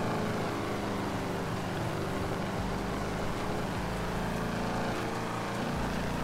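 A car engine in the FiveM driving game, just shifted down into second gear, drones steadily and loudly throughout with no one speaking.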